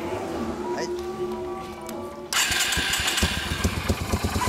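A Yamaha SRV250 motorcycle fitted with a Supertrapp exhaust starts up partway through, then idles with loud, rapid, throaty pulses close by; people talk before and around it.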